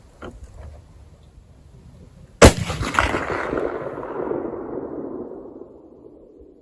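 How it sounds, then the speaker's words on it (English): A Mosin Nagant 91/59 carbine fires Czechoslovakian training ammunition. The single sharp, loud crack rolls away in a long echo, with a faint bullet impact on the target 240 yards downrange. "I hope you can hear the bullet hitting"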